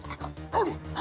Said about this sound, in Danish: Du er en klog hund, Buller